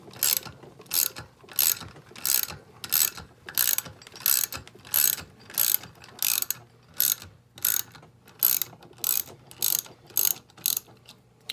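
A ratchet loosens a rocker arm bolt on a Chevrolet LS 5.3 V8 during valve spring removal, giving about fifteen sharp, evenly spaced clicking bursts up close, each a quick metallic rattle of the pawl, with no talking.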